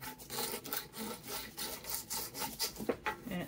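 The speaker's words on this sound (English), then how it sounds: "I'm just going to give the tray a light sanding." Sandpaper rubbed by hand over a painted wooden tiered tray: faint, quick back-and-forth scratching strokes in an uneven rhythm, close up and with no talking.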